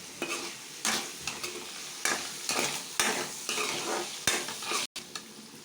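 Andhra-style prawns with gongura leaves sizzle and bubble loudly in hot oil, and a spatula stirs the pan in regular strokes about once a second, each one sending up a fresh burst of frying noise.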